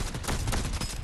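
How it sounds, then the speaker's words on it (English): Gunfire crackles in a fast shooter game, a dense, close burst of rapid shots lasting about a second. "We shot the wrong guy"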